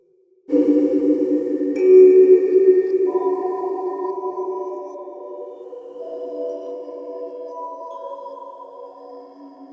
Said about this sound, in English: have this beautiful undulating pad, and you do have 3 different sounds